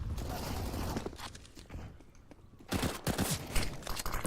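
Bursts of rifle fire and scattered shots crackle through a Counter-Strike competitive match, with a quieter lull before a dense volley erupts again, mixed under a caster's voice.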